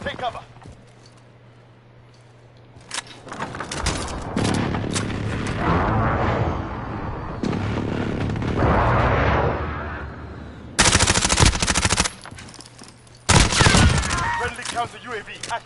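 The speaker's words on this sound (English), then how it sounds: "Airstrike inbound. Take cover." Airstrike explosions and gunfire in the Modern Warfare video game: loud bursts of rapid firing and booming blasts come in waves, with two especially sharp, intense volleys near the end, over game voice chatter.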